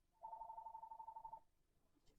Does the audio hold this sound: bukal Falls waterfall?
no